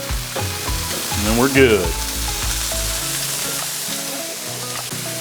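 Swiss steak sizzles loudly on a Blackstone griddle outdoors, a continuous bright frying hiss with a brief scraping, clattering burst of spatula work midway and a short spoken phrase near the end.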